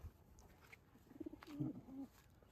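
A king pigeon coos softly, a few low throaty calls close by under faint background noise, with no talk.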